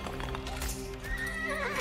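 A horse whinnies over steady clip-clopping hooves, with a droning musical backdrop; the sound is synthetic, from Age of Empires 4, close and fairly loud.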